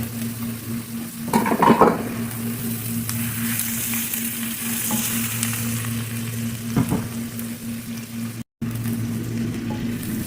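Minced garlic sizzles steadily in a hot frying pan, a close crackling hiss with a brief stirring scrape near the start and another soft clatter later, no voices.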